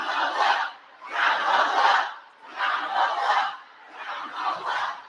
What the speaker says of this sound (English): Now that's the supporters clapping back.